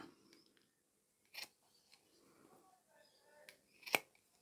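Scissors trim the ends of sewn fabric handles for a small zippered handbag, giving a few faint, sparse snips and clicks in a quiet room with no talking.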